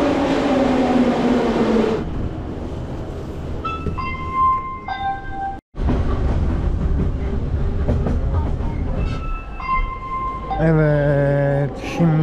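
Train arriving and then riding on a railway in Georgia, heavy rumbling and clattering of the carriages with squealing metallic tones from wheels and brakes, loud and close throughout.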